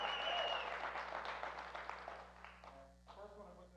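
Audience applause at the Idaho Business Summit 2023 for a volunteer, a dense clapping wash that fades over a few seconds as a voice begins speaking over an amplified room hum.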